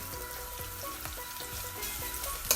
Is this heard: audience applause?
no